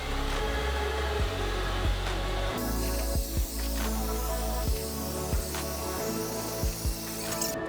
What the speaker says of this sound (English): I'm gonna actually use a hairdryer just to speed the drying process up